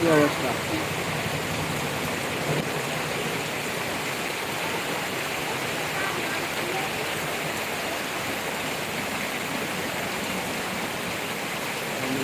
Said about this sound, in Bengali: প্রচুর বৃষ্টি হচ্ছে আমাদের এই যে দেখেন